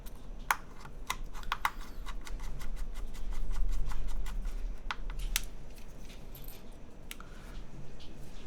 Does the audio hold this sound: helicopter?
no